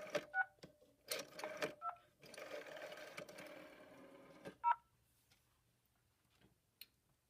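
On a PBX, rotary dial pulses are converted into touch-tone dialing, giving several short paired tone bursts separated by ticking clicks and quiet gaps, with no talk.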